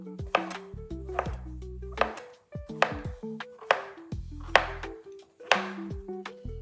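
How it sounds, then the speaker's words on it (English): A knife slices scallop mushroom slices in half on a cutting board, giving about six crisp, evenly spaced chops with short tonal ringing after each, close and clear with no talking. "Let me slice some of these slices in half."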